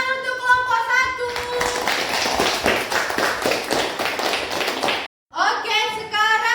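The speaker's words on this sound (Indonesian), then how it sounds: "Tepuk tangan untuk kelompok 1." A class of students applauds a group during a lesson on magnets, several seconds of dense, close clapping between spoken phrases, cut off by a brief silence before talk resumes.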